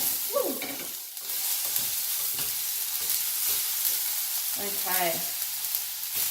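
Food sizzles and fries in extra virgin olive oil seasoned with salt and pepper, a steady loud crackling hiss throughout, with brief stirring scrapes and a few spoken words over it.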